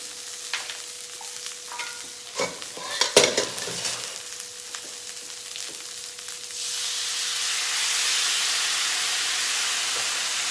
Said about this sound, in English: while it's still in the pan, I'm gonna add some of my special sauce that I made.